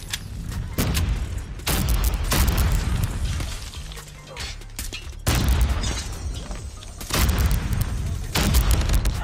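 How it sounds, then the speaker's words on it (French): An incendiary grenade and gunfire in the mobile shooter game Call of Duty Mobile, heard as repeated loud booming bursts and crackling blasts that come in waves, dense and close, with a voice barely present underneath. "Techno, il m'a envoyé une grenade d'infondière."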